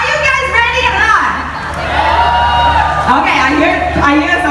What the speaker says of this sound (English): I hear some cheer from them